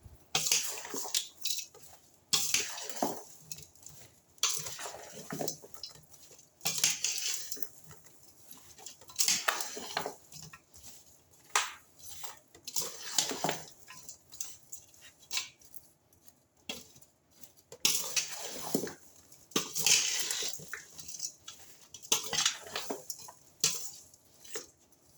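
Mango pieces being mixed by hand in a bowl for pickle, with steady wet squelching, patting and clattering strokes that repeat unevenly at close range, with no voices.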